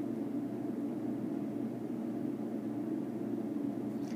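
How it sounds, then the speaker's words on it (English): Classroom air conditioning runs as a steady, even broadband hum and hiss, constant and moderately quiet throughout, with no voices. "I'm in the classroom and the air is running"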